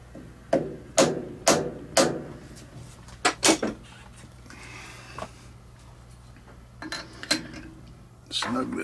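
A wheel adapter on a Honda being tapped into place against its mounting face, several sharp metallic knocks in a loose rhythm, close and clear, with quieter handling sounds between.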